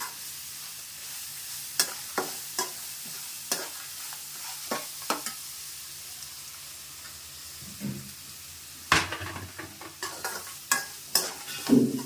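Grated carrot fries in a pan with a faint background sizzle while a spoon repeatedly scrapes and clacks against the pan, giving irregular stirring knocks throughout.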